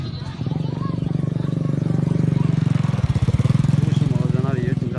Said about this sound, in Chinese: 这么多摩托车，看到没有？